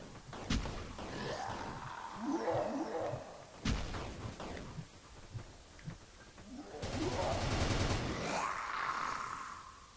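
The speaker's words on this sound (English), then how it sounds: "I guess someone's in here because I hear shooting." Scattered gunfire in the blocky shooter Murder Miners, a few sharp shots and short bursts heard inside a house amid shuffling game noise and grunting sounds.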